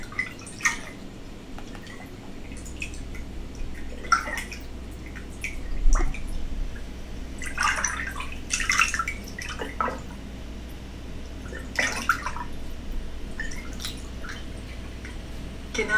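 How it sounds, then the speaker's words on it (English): Water splashes and drips in a bathtub as someone sits in it and tries to push the water to drain, giving scattered soft splashes and drips over a quiet low hum. "Can you hear me splashing?"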